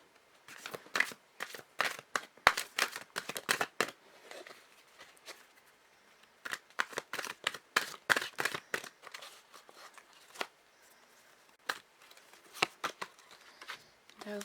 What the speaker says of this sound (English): I will shuffle these now on camera.